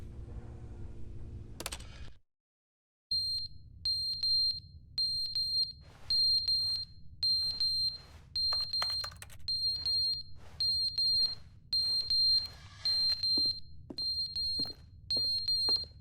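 A smoke alarm in The Stanley Parable: Ultra Deluxe chirps in rapid, regular bursts of sharp high beeps after a brief silence, repeating steadily over a low ambient hum.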